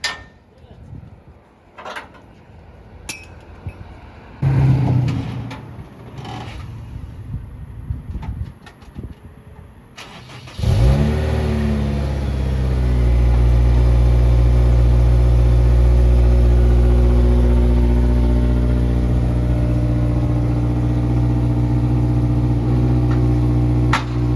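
A Honda S2000 engine fires up partway through and settles into a loud, steady idle with a slight rev, following a stretch of quiet outdoor noise, faint bird sounds and brief talk.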